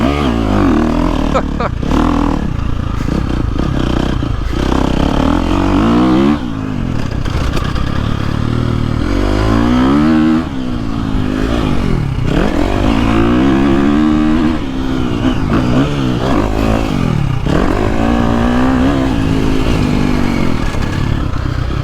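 A 2023 KTM 350SXF dirt bike engine under load while riding, loud and close, its four-stroke note rising and falling through repeated rev sweeps and lugging mid-range pulls, with wind rush and occasional rattle.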